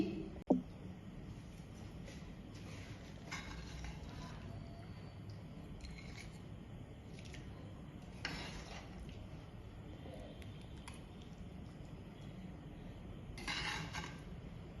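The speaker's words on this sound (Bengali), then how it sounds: "এখন খাওয়ার জন্য আমি তরকারিটা তুলে নিচ্ছি" Catfish curry with potatoes is served from the pot onto a plate, heard as quiet scraping and clinking of a spoon on metal and dishware, with a few brief louder knocks.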